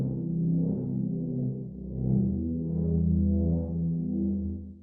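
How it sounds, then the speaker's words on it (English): A sustained low synth pad runs through rhythmic multiband distortion, swelling and pulsing in a steady, wobbling pattern, alone and fairly loud. "Gives us this interesting rhythmic distortion effect."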